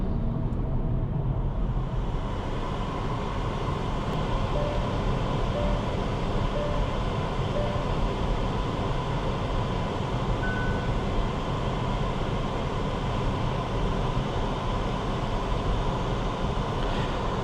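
Cabin of a Hyundai Ioniq 6 electric car at 60 km/h with the air conditioning on maximum, a steady broadband rush of fan airflow and road noise, constant and fairly loud throughout, with no talking.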